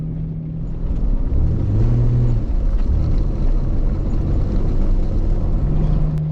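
Off-road vehicle driving through deep snow, a loud continuous engine rumble with drifting tonal hum as revs rise and fall, close and steady with no talk.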